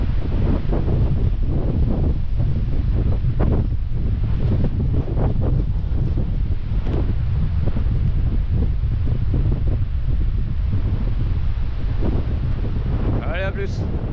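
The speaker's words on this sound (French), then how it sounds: "Ah, c'est monté à 40 km/h le vent là" Strong gusting wind at about 40 km/h sweeps across the Orx marsh nature reserve, a steady loud roar buffeting the microphone throughout, with brief voices under it.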